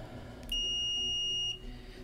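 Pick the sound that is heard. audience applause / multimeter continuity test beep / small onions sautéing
multimeter continuity test beep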